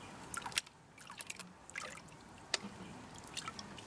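Water trickles and drips as residue is rinsed from a gold pan holding leftover gold and silver after copper was removed, with intermittent splashes and light pouring sounds at close range.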